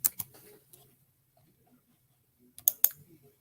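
A stock ticker is typed on a computer keyboard in a few quick clicks at the start, then a pause, then another short burst of keystrokes near the end, close and light, with no one talking.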